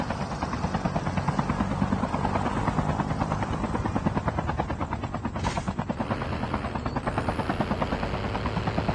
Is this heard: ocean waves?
no